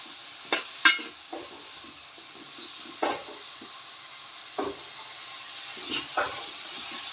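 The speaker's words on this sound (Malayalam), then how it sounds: "നന്നായി ഒന്ന് മിക്സ് ചെയ്ത് കൊടുക്കാം." Toddy-shop style country chicken curry stirred in a pan at home, with a few separate scraping clacks of the spoon against the pan over a low, soft sizzle. The sound is quiet and sparse, and no one speaks.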